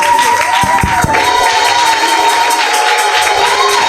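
Church congregation at an evening service cheering and acclaiming loudly, a dense sustained crowd roar with shouts and some clapping that fills the whole stretch without pause.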